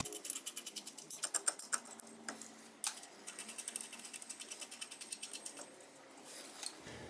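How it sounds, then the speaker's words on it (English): Lug nuts are spun onto the rear wheel studs of a C4 Corvette to hold the brake rotor, producing a quick series of faint ratcheting clicks and light metallic taps, close and quiet, with no talking. "Just adding a couple lug nuts to lock the rotor in place."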